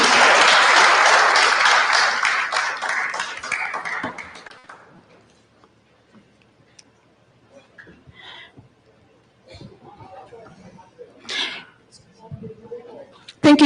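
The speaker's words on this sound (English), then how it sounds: "Let's give him a round of applause," Audience applause at a live citizens' assembly in Kenya, a loud broad wash of clapping that fades out after about four seconds, followed by quieter scattered crowd sounds and a little distant chatter.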